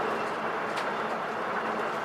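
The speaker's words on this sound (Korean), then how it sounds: "우리 열차는 잠시 후 마곡대교를 건널 예정입니다." A Seoul subway train runs steadily at speed, a dense, even rumble and rush filling the car with a faint squeal, heard from inside, no talk.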